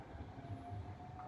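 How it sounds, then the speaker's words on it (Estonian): A tram rumbles past on a Tallinn street, a faint, continuous low rolling drone with a thin steady whine above it and no voices. "Tramm sõidab, tramm üriseb."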